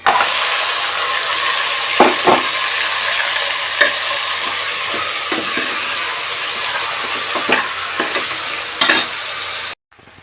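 Marinated mutton with onions, mint and masala fries in oil for a homemade Bhimavaram mixed biryani, giving a steady, loud sizzle with occasional stirring clinks before it cuts off abruptly near the end.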